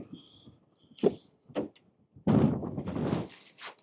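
An Alfa Romeo Junior door shuts with a firm, short thunk, followed by rustling and further handling noises nearby, outdoors in stormy weather.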